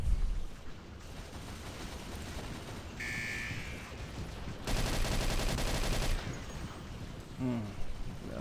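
Gunfire from the SGDZ video game on the Diversation map comes in quiet bursts of dense, crackling shots with short gaps between them. The shots include sniper fire and sit fairly low in level, mixed with game noise.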